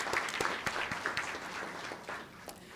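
Sustained applause from an audience at a County of Imperial and Imperial Valley College press conference, honoring college trustees: dense, even clapping with a few sharper individual claps standing out, fairly close and alone without talk.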